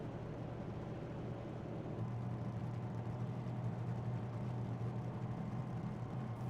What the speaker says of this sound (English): the engine doesn't exactly sound optimal